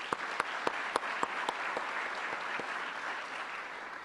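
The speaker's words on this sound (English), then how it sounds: "one more round of applause for all of our award winners today" Award winners at the SAMCEDA Awards of Excellence receive a round of applause from the crowd, a steady wash of many hands clapping with a few sharp, louder claps nearby at the start.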